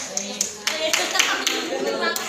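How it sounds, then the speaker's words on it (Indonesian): Children in a classroom clap their hands in a short, uneven burst of separate claps, with talking mixed in throughout. "tepuk tangan buat Sultan"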